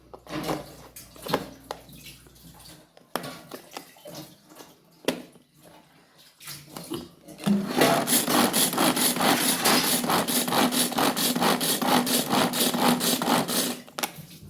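Scattered clinks and taps, then fast rhythmic beating of eggs in a bowl for an omelette, a rapid steady whisking that continues close and loud.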